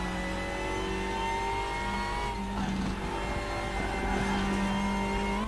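A race car engine in the RaceRoom Racing Experience game, a WTCR 2020 short-wheelbase hatchback touring car, droning steadily with rising revs, then a brief dip and crackle as it shifts before pulling again.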